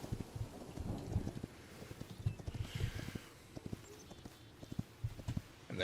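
Horse hooves clip-clop steadily on the ground in the Hytale video game, an irregular series of close, moderately soft thuds with light wind noise and no talk.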